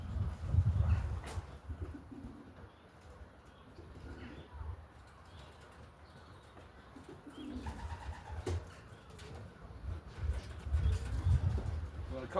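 Pigeons in a loft coo in low, repeated throaty bursts close by, with occasional wing flaps and clicks and faint human voices in the background.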